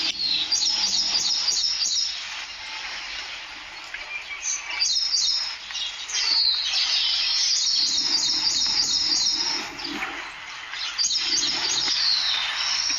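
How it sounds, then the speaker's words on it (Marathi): Birds chirp and tweet in repeated quick bursts, several calls overlapping against a steady outdoor background during rain, with no one speaking. "पक्ष्यांचा चिवचिवाट किती सुंदर आहे"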